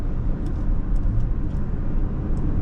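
Steady low road and engine rumble inside a 2025 Toyota Sienna Platinum minivan as it drives along a road at moderately high speed, continuous and fairly loud with no talking.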